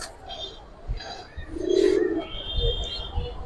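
Silver military pangkhi pigeons cooing in a market setting, a few soft close coos and rustles amid low background noise.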